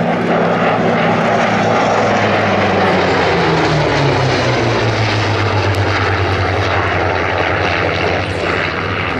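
A Royal Air Force Spitfire, a propeller warplane, roars loudly overhead at an air show, its engine drone sweeping down in pitch as it passes and recedes, with no talking.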